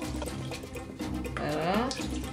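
Water is poured onto celery, ginger, beetroot and cloves for a blended drink, making a close, steady splashing stream with a rising gurgling pitch as the container fills.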